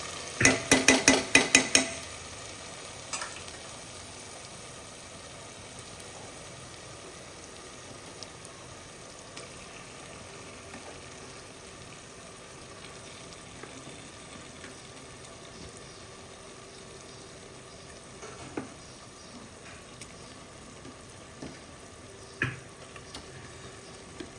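Mutton pieces go into a pan over a low flame to fry, with a cluster of clattering, sizzling impacts at first, then a quiet steady sizzle broken by occasional stirring scrapes and knocks.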